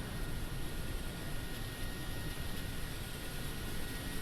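Steady, quiet cabin hum and airflow drone inside an iniBuilds A310 airliner in a flight simulator, an even, unbroken noise bed with no talk.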